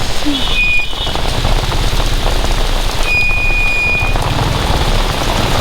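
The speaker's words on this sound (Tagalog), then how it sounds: "bigla naman bumuhos ang ulan." Heavy rain pours down hard on surfaces outdoors, a loud, steady dense roar lasting throughout, with a faint engine-like hum underneath and no speech.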